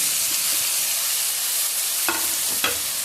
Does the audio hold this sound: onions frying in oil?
yes